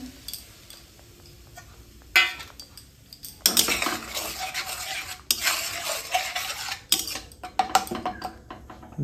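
Onion paste and tomato paste with spices stirred and fried in a pan for an oil-free chicken dish: repeated scraping strokes and metallic clinks of a spoon against the pan, close up, over a soft sizzle.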